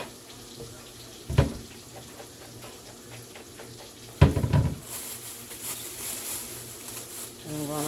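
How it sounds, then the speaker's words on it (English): Kitchen tap running slowly while lettuce is rinsed, a soft steady trickle with a few louder splashing bursts and a brighter hiss of flowing water toward the end, no talking. "Let the water run over that."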